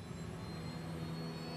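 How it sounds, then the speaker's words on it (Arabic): Rolls-Royce aircraft jet engine running after a restart in flight, a steady loud roar with a constant whine and low drone throughout, no voices. "ذاك الصوت الذي يصدره محرك رولز رويس عندما يعمل أسعدنا سماعه"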